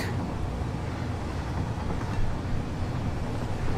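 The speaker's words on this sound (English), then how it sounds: "just let the train move" A train rolls steadily along the tracks in the factory-building game Satisfactory, a continuous low rumble with faint rail clatter, moderately loud and unbroken, with no one speaking.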